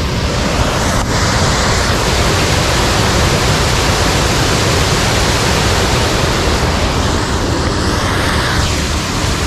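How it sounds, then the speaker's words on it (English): Water rushes loudly over a dam as a constant, dense roar that stays at full strength throughout, with no break or change. "So you can probably hear the dam behind me. It's pretty loud."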